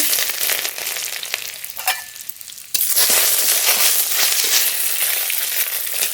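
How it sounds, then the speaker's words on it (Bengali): Chopped garlic, radhuni seeds and spices fry in mustard oil in a wok, hissing steadily, then bursting into a louder, fuller sizzle midway as more goes into the pan. "পালং শাকের তরকারি রান্না করব তার জন্য ফরন করে নেব কড়াইতে সর্ষের তেল"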